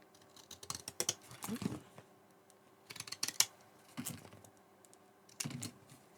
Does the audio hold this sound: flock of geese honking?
no